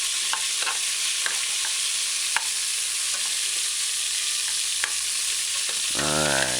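Beef browning in a pot for a broad bean brown stew, giving a loud, continuous hissing sizzle on medium heat. Occasional soft knocks come as the pieces are shifted, and a brief tonal scrape sounds at the end.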